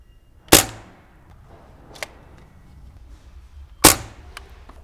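Sharp pellet gun shots striking a Shoei Neotec motorcycle helmet visor: two loud cracks about three seconds apart with a fainter pop between them, each a brief close snap in otherwise quiet surroundings.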